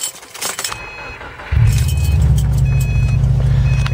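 A car engine starts up midway through after a few seconds of quieter cabin noise, catching abruptly and settling into a steady, loud idle. A faint jingle of keys is heard beforehand.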